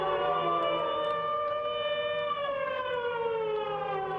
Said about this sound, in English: In World War II, it was the air raid sirens went on.